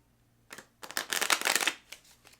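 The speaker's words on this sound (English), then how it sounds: "we're going to shuffle 2 or 3 more times just to make sure that they are all mixed up" A deck of playing cards is shuffled up close: a soft tap, then a dense rustling riffle lasting about a second that fades out, with no speech.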